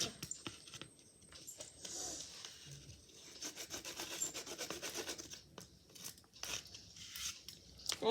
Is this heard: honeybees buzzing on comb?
no